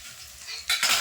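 Spice pastes hit a pan of frying onion, ginger and garlic for chicken kosha, a soft sizzle swelling into a sharp, loud hiss with stirring scrapes.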